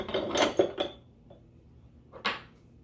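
Fitting the auger worm into a metal meat grinder housing while assembling it for making Italian sausage, heard as close metallic clanks and scraping knocks at the start, then a pause and one more sharp metal clink, no talk.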